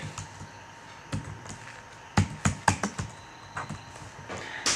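Someone types on a computer keyboard while entering data in an Excel sheet. Close, crisp key clicks come in uneven bursts, and a few louder keystrokes stand out in the middle.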